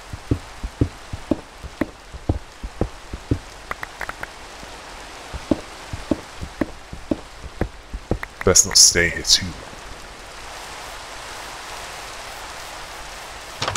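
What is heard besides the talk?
rain in the video game Minecraft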